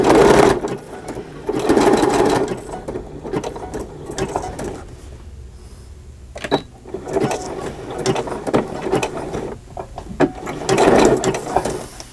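A small sewing machine stitching through paper for a faux crazy-quilt journal cover: loud, close bursts of rapid mechanical clatter that start and stop, with quieter gaps of handling between runs.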